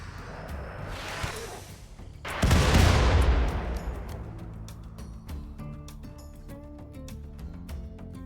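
Combat sounds from the RimWorld video game: rapid gunfire rattles, then a heavy rocket-launcher blast and roar, followed by scattered, sharp shots and clicks.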